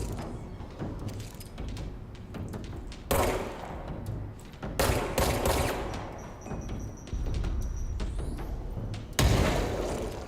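Bombs thrown by enemies explode in the video game Control, several loud booming blasts at irregular intervals over a rumbling, crackling backdrop.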